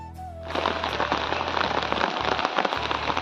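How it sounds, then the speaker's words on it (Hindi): Heavy rain pours down in a dense, hissing, crackling downpour that starts abruptly and stays loud and steady, with a low background hum beneath it. "और अभी होने लगी है भयंकर बारिश"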